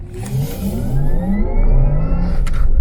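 A 2020 Porsche Taycan 4S electric car accelerates hard with a rising electric motor whine that climbs steadily in pitch, loud and close, with no voices.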